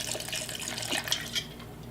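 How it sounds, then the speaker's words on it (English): Spiced rum pours from a bottle over ice in a tumbler for homemade eggnog, a steady close liquid trickle with a few faint clinks near the end, no voices. "And then you add a couple ounces of rum."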